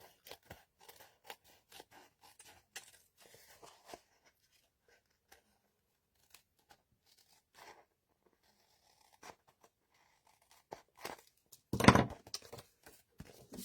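Scissors snipping paper card for a handmade diamond card, a run of small dry crisp cuts close by, then a louder crunching cut near the end, otherwise quiet.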